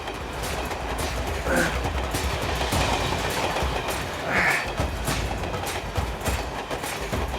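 A passenger train moving along the track, a loud continuous rumble with rhythmic wheel clatter and faint squeals heard from inside a carriage, steady throughout with no talking.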